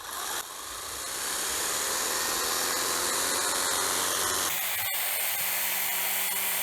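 A LEADER Prime pressure washer runs in a garden-watering mode, giving a continuous, even motor whine with a hissing spray that holds steady close by, shifting slightly in tone partway through.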